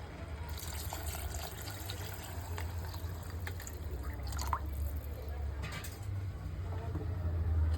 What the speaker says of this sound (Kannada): ಇವಾಗ ಇದಕ್ಕೆ 4 ಗ್ಲಾಸ್ ನೀರು ಹಾಕ್ಕೊಳ್ತಾ ಇದ್ದೀನಿ